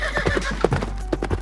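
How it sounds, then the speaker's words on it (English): A horse gallops with a steady clip-clop of hooves and whinnies loudly several times, as a sound effect with no talk. "as much of it as his horse Bucephalus could gallop across"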